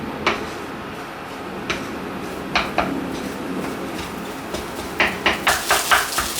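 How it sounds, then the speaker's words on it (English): Steak fried rice is stir-fried in a wok over medium heat, with a spatula knocking and scraping against the metal in scattered clacks that turn into a quick rhythmic run of strikes at the end over a low background hiss. "just stir fry this for like a few minutes"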